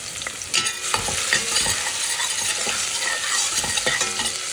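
Finely chopped garlic fries in oil in a pan, giving a continuous loud sizzle with scattered crackles and the scrape of a stirring utensil.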